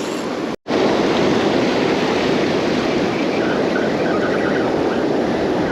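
Loud, steady rush of ocean surf breaking on a beach, heavily mixed with wind buffeting the mic, with a brief dropout near the start.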